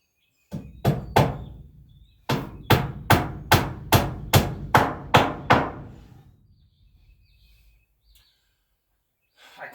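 Hammer blows driving nails into a loft floor, a pair of sharp ringing strikes followed by a steady run of about eight evenly spaced blows, close and loud, then quiet.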